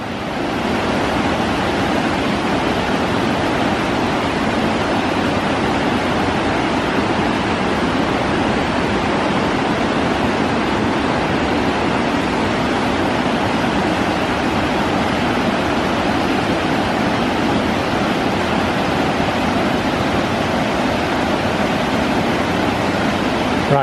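Loud, steady rushing water close by on a breezy day somewhere in France, a continuous broadband roar with wind mixed in, unbroken for the whole stretch with no voices.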